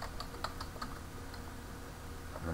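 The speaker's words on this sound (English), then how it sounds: "then I'm going to type passwd, and then the name of the user whose password I want to change" Quiet typing of a command on a computer keyboard in a Linux terminal, a brief run of light, irregular key clicks close by, alone without talk.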